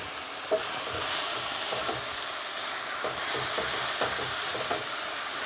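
Flank steak sizzles steadily in a pan over medium-high heat, a constant dense hiss with faint stirring scrapes and occasional soft clicks, close and alone.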